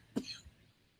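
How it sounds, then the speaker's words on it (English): A single short cough, close and fairly quiet, followed by a brief throaty rasp and then near silence. "Sorry, got me coughing."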